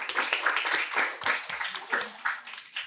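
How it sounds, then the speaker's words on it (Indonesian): Audience at a village-themed podcast talk session in a cafe clapping, a dense spread of hand claps with voices mixed in underneath. "Tepuk tangan dong."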